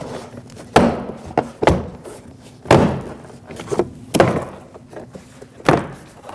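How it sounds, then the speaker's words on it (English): Door panel push clips on a 2006-2015 Lexus IS250 pop loose one after another, giving about six sharp, close thunks spaced irregularly. "pry out on the door panel and pop all the push clips that hold it on"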